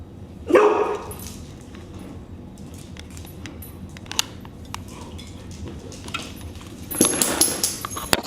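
Dogs bark and yip in short bursts, a loud excited yelp near the start and another flurry near the end, with quieter rustling between.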